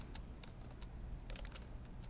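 Typing on a computer keyboard, soft scattered key clicks in small bursts, close and faint in a quiet room with no one talking.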